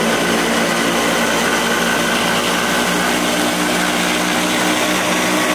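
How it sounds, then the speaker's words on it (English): A blender runs continuously at high speed, crushing strawberries into a puree for jam, loud and steady throughout with no talk. "I'm gonna put them in the blender"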